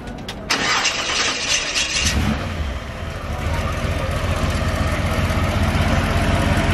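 A car engine cranks briefly and catches, then settles into a steady, rumbling idle that fills the rest of the clip at close range.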